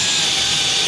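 A TECCPO cordless lithium-ion drill runs at high speed, drilling through material with a steady, loud whine that holds for under a second and has no pauses.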